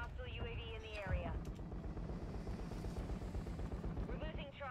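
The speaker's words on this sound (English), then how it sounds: "Our chopper gunner is inbound hot." A chopper gunner helicopter in the Call of Duty Modern Warfare III video game gives a continuous heavy rotor rumble with a dense, thumping texture, mixed with whooshing sweeps and game effects, and nobody is talking over it.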